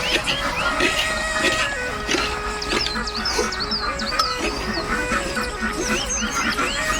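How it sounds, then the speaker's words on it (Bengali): Ducks quack repeatedly in a busy, overlapping chorus on a village winter morning, close by and fairly loud, with steady background noise underneath. "এগুলো পাখি হাঁস বলা হয়"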